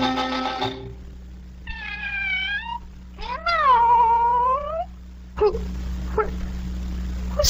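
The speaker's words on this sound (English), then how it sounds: "Oh, it's the Cheshire Cat from the Duchess's." A cat meows several times in drawn-out, wavering cries in a 1948 radio drama of Alice in Wonderland, then sharper noises follow with a hiss of background.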